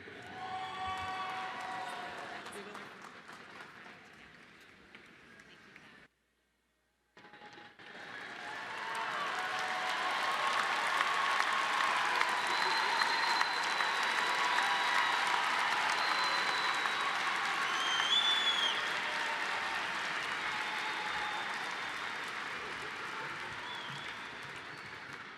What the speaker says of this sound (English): Please join me in another round of applause for our graduates.